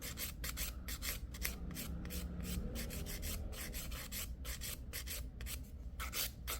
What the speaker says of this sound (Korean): 이 부분은 아주 힘없이 얇게 갈아주시고 모양만 잡는다 생각하시면 되실 거예요